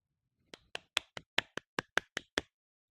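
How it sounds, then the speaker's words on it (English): Hand claps, about ten sharp evenly spaced claps in a quick run, close and clear against silence, with no talking, marking a break between segments while setting up a game of the board game Earth. "That's the clapping for the next video segment"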